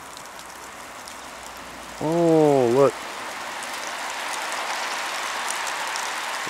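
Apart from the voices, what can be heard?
water dripping from trees like rain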